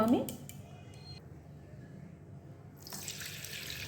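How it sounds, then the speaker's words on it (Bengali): Water drains through a kitchen strainer while a palm (tal) pitha batter is prepared, a steady close trickle and splash that is strongest at the start and settles into a softer, continuous running sound. "আমি জলটা ঝরিয়ে নেব ছাঁকনির সাহায্যে"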